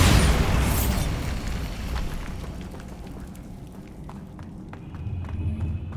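A Bombarda spell in the video game Hogwarts Legacy sets off a loud, close explosion with a deep boom that fades into a rumbling tail over several seconds.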